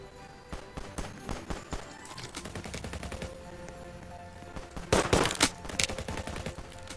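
Gunfire from upgraded turrets in a tower defense game, faint rapid clusters of shots with a louder, denser burst near the end, no voices.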